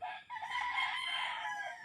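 A rooster crows once, a drawn-out, strained call rising and falling over nearly two seconds, fairly distant and faint, with no talking.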